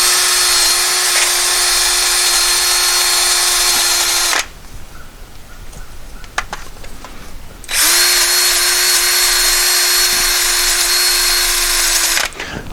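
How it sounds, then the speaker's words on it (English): Power tool spinning a wire brush to clean brake dust from a caliper bracket on a 2007 GMC Acadia, two loud steady whirring bursts of about four seconds each, separated by a quiet pause with faint clinks. "We'll just run a wire brush in here."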